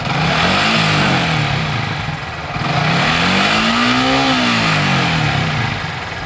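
A Yamaha Vixion motorcycle engine, warmed up, revs twice, its pitch rising and falling in smooth swells over a steady close rumble, with no voices.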